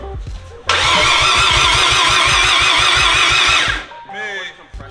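A rotary engine cranks on its starter for about three seconds, a loud, rapid pulsing churn with compression puffing through the exhaust, then stops, with people talking faintly afterward.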